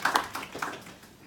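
Audience applause from a talk on chakra science, a brief burst of clapping lasting about a second that fades quickly, with a few sharp hand claps near the start.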